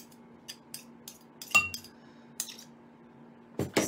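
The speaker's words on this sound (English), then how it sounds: "you're going to start stirring them together" A utensil stirring a glue and cornstarch mixture into borax water in a bowl, giving a series of sharp, close clinks and taps against the bowl at irregular intervals, with quiet gaps in between.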